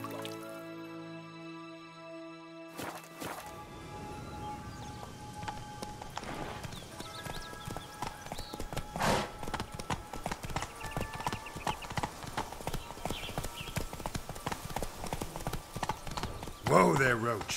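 Roach, a horse in The Witcher III, trots with a steady, close clip-clop of hooves that runs throughout, with a brief voice and tonal sounds near the start.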